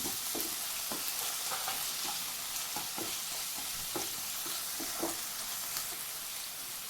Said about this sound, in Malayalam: തക്കാളി ജസ്റ്റ് ഒന്ന് നമ്മൾ ഇളക്കി കൊടുത്ത് മിക്സ് ചെയ്തിട്ടുണ്ട്